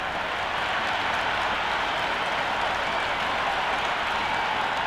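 Steady, loud stadium crowd roar from a Cricket 26 match between RCB and KKR on PS5, a dense wash of cheering and clapping that holds without a break for the whole stretch.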